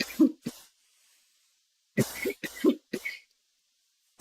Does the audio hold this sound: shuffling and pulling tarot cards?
no